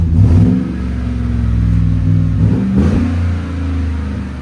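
A 2018 Chevy Tahoe 6.2L V8 fitted with an 18-inch Magnaflow muffler revs up close and loud, the deep exhaust burble swelling twice and settling back to a throaty idle, no voices.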